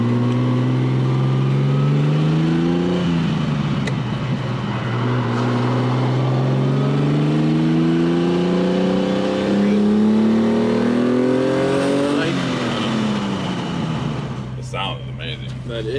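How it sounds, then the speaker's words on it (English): A 1970 Ferrari Dino 246 with its racing-derived V6 drones steadily from inside the moving car, pitch climbing through gears with shifts around four and twelve seconds, while someone talks over it. "That engine, though, it's a V6."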